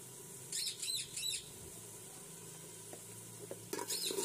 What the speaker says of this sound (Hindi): इसमें मैं नमक, हल्दी और सुरख मिर्च डाल दूँगी और मसाले को भुनने के लिए रख दूँगी